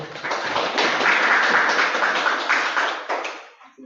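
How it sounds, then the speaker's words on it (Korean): An audience applauds after a lecture on community care and its future, with dense, sustained clapping from many hands that holds steady for a few seconds before tapering off. "큰 박수로"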